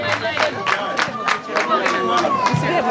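A crowd at a naming ceremony in Musanze claps in a quick, even rhythm with voices chanting and calling along, loud and close throughout.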